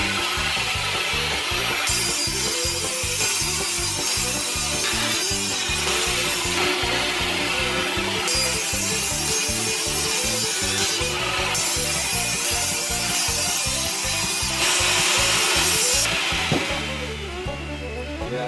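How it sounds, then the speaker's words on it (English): A power sander works across a wooden workbench in a loud, continuous rasping drone. Its pitch pulses rhythmically with the strokes across the board for the whole stretch. "Now you can sand it."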